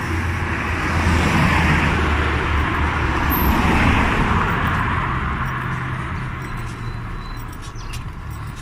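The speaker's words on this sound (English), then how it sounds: "A little bit busier traffic wise." Road traffic on a street in York, a steady wash of passing cars close by, swelling and fading as vehicles go past, with faint birdsong above and no talking.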